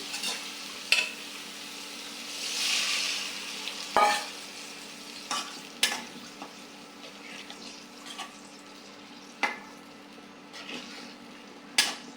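Spices sauté with turmeric, salt and a little water for a pumpkin and rohu fish curry, giving a soft, steady sizzle. Sharp spatula clicks and scrapes against the pan come every second or two.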